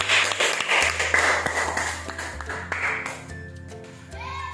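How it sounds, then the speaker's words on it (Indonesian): A classroom group claps for a presenting team, a short loud burst of hand clapping that fades out, with a faint ringing tone near the end. "tepuk tangan untuk kelompok 2"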